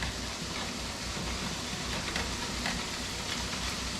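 A mixture is stirred in a hot cooking pan to keep it free of lumps, with a steady, close sizzle and soft scraping running evenly throughout and no voices.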